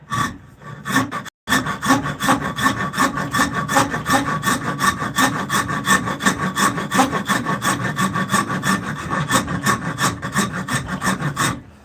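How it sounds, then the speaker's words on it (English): A Japanese half-round rasp works wood in fast, even back-and-forth strokes, loud and close, after a short pause near the start, with no voices. "Get back to doing some rasping."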